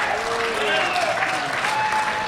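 Arena crowd at a world powerlifting championship applauding and cheering a successful lift, sustained loud clapping throughout with scattered whistles and shouts.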